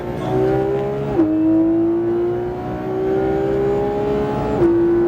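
A Porsche GT3 RS engine pulls hard at Le Mans Maison Blanche, its loud, close tone climbing steadily with two quick gear shifts cutting in, no voices over it.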